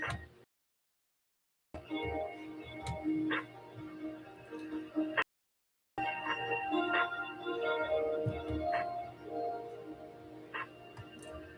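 Dog barking and yipping indoors, with a few short whimpering yelps scattered across a fairly quiet room, moderately close, interrupted by brief gaps of silence.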